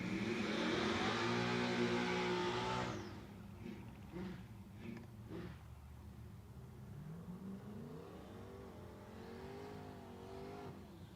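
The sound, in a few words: blown A-body Dart drag race car launching down the track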